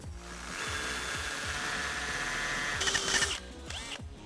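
A power drill with a 1/2 inch bit whirs steadily through a Jeep Wrangler JL shock mount, its motor grinding for several seconds before a brief, louder burst near the end and then stopping.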